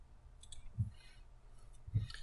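Two distinct clicks about a second apart, close and fairly quiet, over a faint background hiss, with no talking.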